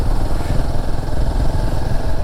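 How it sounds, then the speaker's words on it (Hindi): Royal Enfield Himalayan 450 motorcycle engine pulling hard up a steep hill climb on a Jharkhand road, a loud, steady low rumble with continuous throbbing and wind, close and alone without talk. "चढ़ गई बाइक ऐसी चढ़ाई में, लेकिन पेट्रोल बहुत जाता है क्योंकि पावर लगती है बाइक में"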